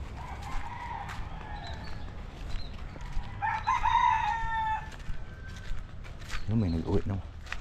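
A rooster crows loudly at a backyard home, one clear drawn-out call in the middle, with scattered clucking and a person talking around it.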